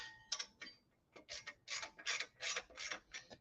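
A hand ratchet snugs up the nuts on a Harley-Davidson motorcycle, giving quick bursts of sharp clicking in an uneven rhythm, close and fairly quiet, with short pauses between strokes.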